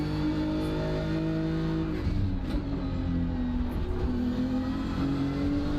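A BMW race car engine at Road Atlanta in the sim racing game iRacing, droning and shifting pitch steadily with gear changes, loud and continuous with no talk.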